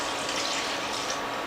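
Chicken broth pours into a pan of rice in place of water, a steady, close splashing stream with no pauses and no talking.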